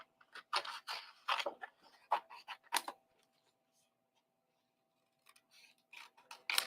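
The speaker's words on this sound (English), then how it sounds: "So I'm hand cutting them apart to be able to die cut them easier." Scissors snip by hand through stamped card pieces, a run of close, crisp cuts in uneven bursts, a short pause, then more snipping.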